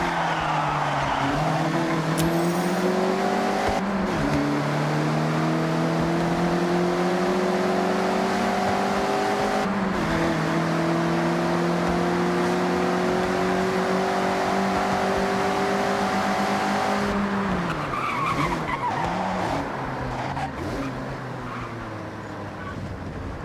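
A Mazda MX-5 in the Forza Horizon racing game drifts sideways, its engine holding a steady high-revving drone with gear-shift dips, tires squealing through long slides, then the revs drop and fluctuate near the end.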